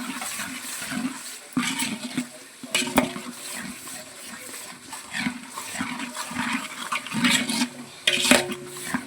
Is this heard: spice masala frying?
yes